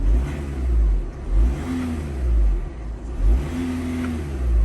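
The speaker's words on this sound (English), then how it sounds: "Give it a little rev to hear some sounds." A 2011 Audi A3 TDI diesel engine, 140 horsepower, revs up and settles several times in short bursts, a low steady rumble rising and falling close by.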